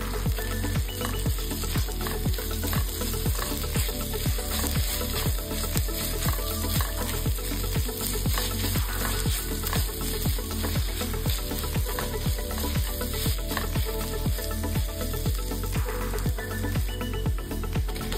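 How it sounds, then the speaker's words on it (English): Onions fry with ginger garlic paste in a pan, a steady sizzle running throughout under a rhythmic, repeating backing beat, with no voices. "Add 1 tablespoon ginger garlic paste and cook until the onions turn golden brown."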